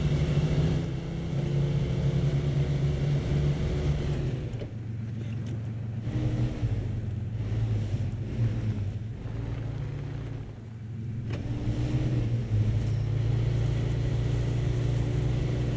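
Heavy GMC MH 9500 truck in Snowrunner grinding slowly between two rocks, a steady low engine drone running throughout with brief dips in load, no talk over it.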